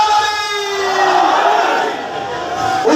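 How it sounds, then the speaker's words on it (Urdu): A large crowd at an emotional religious gathering in Kamalia shouts a loud, sustained response to a slogan, many voices merging into a continuous roar close by. "اس نعرے کا جواب اپنی پوری توانائی اور طاقت کے ساتھ دیں"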